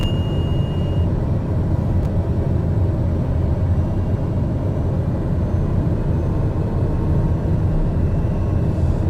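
An airliner touches down on a runway in Microsoft Flight Simulator, with a loud, constant low rumble of engines and rolling wheels and a faint high whine, steady and unbroken for the whole stretch.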